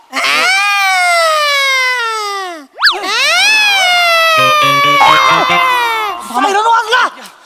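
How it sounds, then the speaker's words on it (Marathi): A wailing, siren-like sound effect rises and falls in long harmonic sweeps, loud and continuous for most of the stretch, with a brief break partway through and choppy warbles near the end, set in a comic family-court skit. "हा वाजला तो सायरन"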